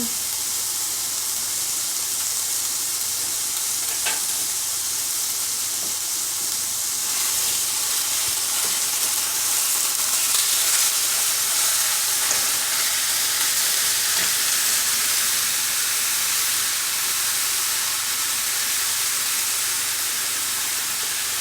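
Egg rolls frying in oil over medium-high heat, a steady loud sizzle and hiss that runs continuously, with faint pops and spatters over it.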